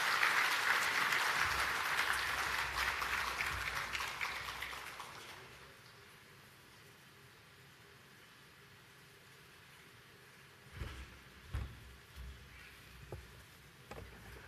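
Audience applause rises at a morning digital transformation summit session, a broad crowd clapping for several seconds before fading into a quiet room with a few scattered knocks.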